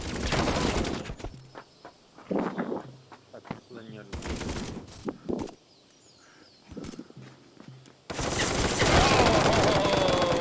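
Sustained automatic gunfire bursts in the VR shooter Contractors, loud and close, broken by shorter volleys and quieter gaps, ending in a dense continuous stretch of fire.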